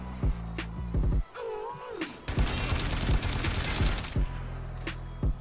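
Telos Boltor, a bolt-firing gun in the video game Warframe, lets off scattered rapid shots, a few sharp cracks early and a dense burst of fire through the middle before trailing off to isolated shots.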